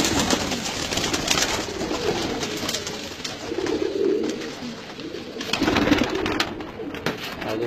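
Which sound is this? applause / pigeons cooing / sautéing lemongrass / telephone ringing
pigeons cooing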